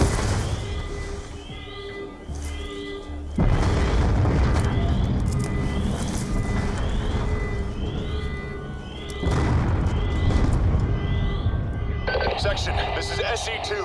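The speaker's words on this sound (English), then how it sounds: "We're monitoring multiple explosions across the facility." Heavy booming blasts and rumbling crashes from Call of Duty: Black Ops II, several loud bursts in sequence across a facility, with electronic tones and radio-style chatter layered over them.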